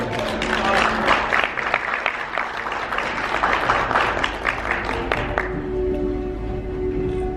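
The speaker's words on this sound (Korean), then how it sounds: "수고신 양경필 선수님께 큰 박수 부탁드리겠습니다." Applause from the audience at the Asia Fitness Awards ceremony, sustained clapping that fills the hall for about five seconds and then trails off, leaving a low stage hum behind.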